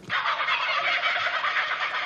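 A kookaburra call plays as a buzzer sound on a TV quiz show, a loud, close, rapid cackling bird cry lasting about two seconds with no talking over it.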